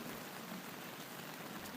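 Heavy rain falling in a forest, as a cartoon sound effect: a steady, dense hiss of downpour that stays even and unbroken throughout, with no voices.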